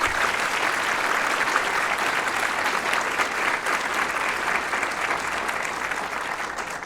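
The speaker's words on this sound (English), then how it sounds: "Let's give them a round of applause." A conference audience at a regional women's leadership event applauds its panel members. The clapping is a full, steady round that stays evenly loud for nearly seven seconds, with no talk over it.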